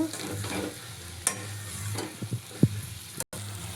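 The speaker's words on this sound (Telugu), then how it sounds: "చిన్నగా కలుపుకోవాలి" Egg curry stirred in a frying pan, a soft ongoing sizzle broken by a few scraping spoon strokes and a sharp clack near the end.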